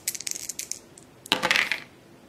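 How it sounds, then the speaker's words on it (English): Two dice for the Last Night on Earth board game clatter and bounce across a table in quick rattling bursts, a short flurry followed by a louder tumble that settles, close by with no talk. "he can now be forced to roll these 2 dice"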